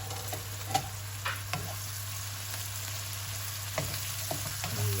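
Chopped ginger and garlic fry in coconut oil with a soft, steady sizzle and a few light stirring taps, fairly quiet and with no talk.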